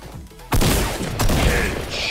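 Loud gunfire in the Fortnite battle royale game, a sharp heavy shot followed by another blast a moment later, close and booming with reverberant tails.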